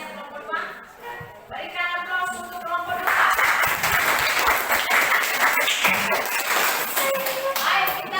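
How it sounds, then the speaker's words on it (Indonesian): Classroom audience applauding for a student group during a lesson about plants, a dense wash of clapping swelling after early chatter and continuing steadily to the end. "Berikan aplaus untuk kelompok 2."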